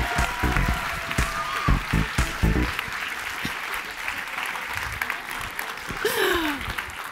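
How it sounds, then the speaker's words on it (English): An audience at an award show applauds steadily for several seconds, a dense, even clapping that fills the room, with a few brief voices and exclamations rising over it. "Round of applause, everybody."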